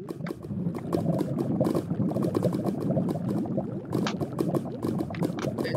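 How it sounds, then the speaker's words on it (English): Bubbling lava-drip particle effects over a dangerous lava pool in Minecraft Master Builders make a continuous boiling, gurgling liquid sound with rapid popping crackles. It stays loud and steady throughout, with no voices. "Lava drip."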